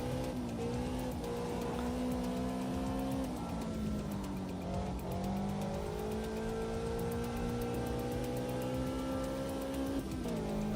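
Race car engine in the Automobilista 2 driving sim, a steady loud drone with sliding tonal pitch as it slows and picks up again, continuous throughout with no talk.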